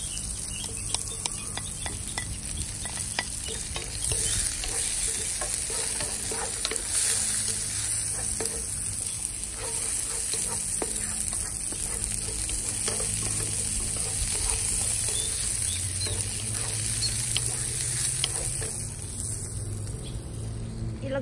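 Garlic sizzling in hot oil for chicken adobo in a backyard outdoor cooking setting, a steady close crackle with repeated stirring scrapes and faint insects or birds behind.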